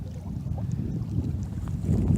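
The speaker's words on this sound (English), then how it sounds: "That is a gust of wind, my friend." Low, rumbling wind buffets the microphone steadily, building slightly toward the end, with faint splashing in the background, beside a pond while bass fishing.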